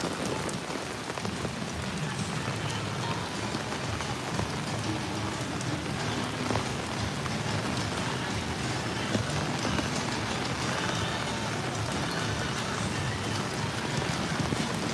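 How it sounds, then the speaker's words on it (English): Heavy rain falls steadily at Universal Studios Florida, a dense, continuous patter on surfaces close around, with scattered louder drips and no talk over it. "More people running in the rain."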